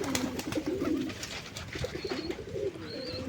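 Several Deshi Raj Golla pigeons coo in low, repeated throaty calls, close by, with soft rustling and a faint higher chirp in the background.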